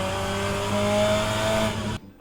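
A race car launches in a racing simulator using a dual-clutch start, its engine droning loud and steady with a rising whine before cutting off abruptly near the end.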